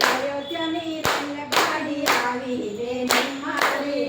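Hands clap along with a Gujarati devotional Ram bhajan, sung by women, in a steady rhythm of about one clap every half second, close and clear under the singing voices.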